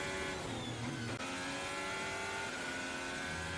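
Formula 1 race car at the Abu Dhabi Grand Prix, engine whining steadily at high revs with a quick shift partway through, close and continuous.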